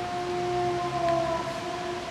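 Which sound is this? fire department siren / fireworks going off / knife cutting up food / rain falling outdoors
fire department siren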